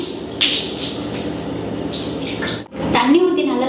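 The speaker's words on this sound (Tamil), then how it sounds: "ஃபஸ்ட்டு தலையில் ஃபுல்லாக தண்ணி ஊற்றிக்கலாம்." Water poured over the head during a hair wash at home, a steady nearby splashing and gushing stream that cuts off briefly near the end, then resumes with a trickle.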